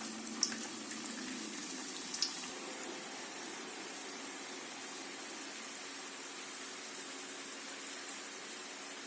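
Potato chips for homemade crispy French fries bubbling and frying in hot oil, a steady soft hiss and gurgle throughout, with a couple of brief clicks near the start.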